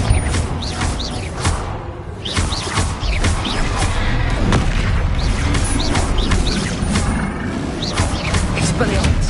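Repeated explosive Confringo spell blasts in Hogwarts Legacy on PS5, loud booming bursts landing every second or so over dense, continuous combat noise with no pauses.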